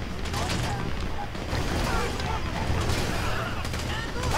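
Dense, continuous gunfire from a Grand Theft Auto V firefight, loud and close, with overlapping shots and rumbling blasts throughout and voices mixed into the din.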